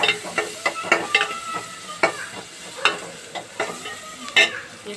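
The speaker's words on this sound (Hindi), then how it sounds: "ये शिमला है इसे इसमें डाल देंगे, थोड़ा भुनना है हल्का सा" Capsicum sautés in a pan with a little red chili for poha, a soft sizzle broken by frequent sharp clacks and scrapes of a spoon stirring against the pan in an uneven rhythm.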